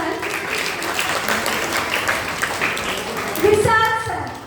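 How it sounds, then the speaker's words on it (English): Students and staff clap for a teacher at a school event in Sudna, a sustained crowd applause heard with voices mixed in, ending with a brief burst of children's chatter. "So clap for Nisikant Pandey sir."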